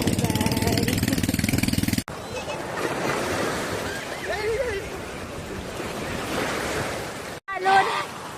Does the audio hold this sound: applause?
no